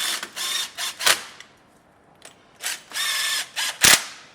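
Ratchet tightening bolts while fitting a part-time 4WD kit to a Toyota 80/100 Series, heard as rapid clicking bursts with short pauses and a sharp clank near the end, close and loud, no talk.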